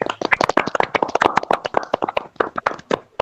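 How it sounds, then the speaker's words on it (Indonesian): Classroom hands clapping during a teaching session, many quick irregular claps from a small group, close and dense, continuing steadily for a few seconds with no talk. "Oke, tepuk tangan dulu ya."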